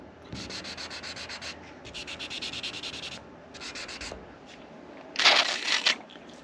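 Short bursts of gritty wet sanding on truck bed paint, stroke after stroke, close up with pauses between passes, ending in a brighter, harsher scrub.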